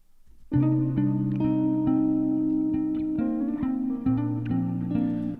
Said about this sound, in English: Okay, now it sounds really muffled,